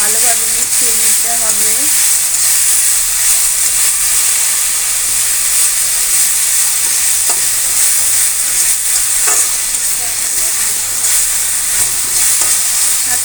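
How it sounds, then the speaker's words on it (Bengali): Jute greens tossed with chopped onion in a hot frying pan give a loud, steady sizzle and continuous stirring scrape throughout, close up, with no voices. "ভালো মিশিয়ে নিতে হবে সাথে মরিচও দিয়ে দেবো ভালোভাবে নাড়াচাড়া করতে হবে"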